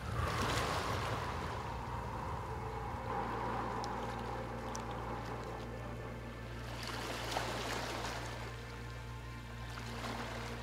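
Ocean waves wash in a slow, continuous surge, swelling and receding with a soft broadband roar and low rumble, steady at moderate level with no voices.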